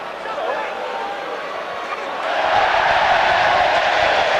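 A stadium crowd at a 2009 Huddersfield versus Catalans rugby league playoff match roars, swelling into a louder sustained cheer midway under commentary.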